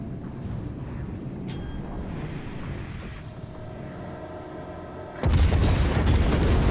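Main guns of a warship firing in World of Warships Legends, aimed at the battleship Nevada: a steady low rumble of distant gunfire and engine noise, then a loud, close broadband blast near the end that lingers.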